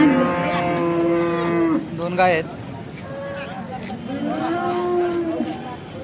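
Cows moo at a busy cattle market in Alephata, with several long, loud, close lowing calls heard over background chatter and crowd noise.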